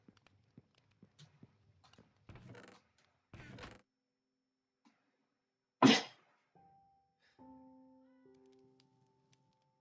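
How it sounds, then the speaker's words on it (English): A single sharp sneeze bursts out loud and close partway through, surrounded by scattered small taps, shuffles and clicks in an otherwise quiet room, followed by faint electronic tones. "Yeah, that was a sneeze."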